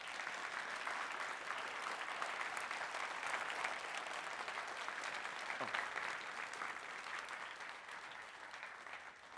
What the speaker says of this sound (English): so it's a clap for yourselves, and all the volunteers who've helped us with today.